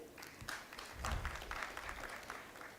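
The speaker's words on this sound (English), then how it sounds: "A big round of applause for him." An audience at an investment event in Coimbatore claps faintly and briefly, a soft, distant patter of applause with no speech over it.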